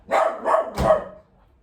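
A dog barks three times in quick succession at someone arriving at the door, close and loud, then falls quiet.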